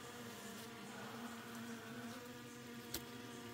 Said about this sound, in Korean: 그래서 이런 식으로 토종벌들을 보고 있습니다.